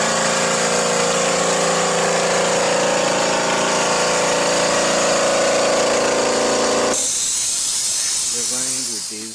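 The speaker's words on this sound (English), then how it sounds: "We're running with this small compressor, and it comes with double regulator and air motor right here." A small air compressor runs steadily, driving the double regulator and air motor of a Binks 183G galvanized pressure paint pot, giving a loud continuous hiss and hum that cuts off sharply near the end, leaving a quieter mechanical rattle.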